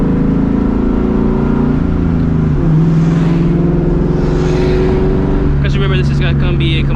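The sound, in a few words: 2004 Ford Mustang GT driving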